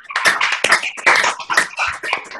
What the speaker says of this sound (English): I clap for Jesus Christ.